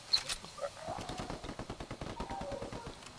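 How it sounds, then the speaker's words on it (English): Rapid, fairly quiet bursts of M14 sniper rifle gunfire in a video game, a dense run of closely spaced shots with no talking. "I am cleaning up right now with my sniper rifle. I bet. I'm using the M14."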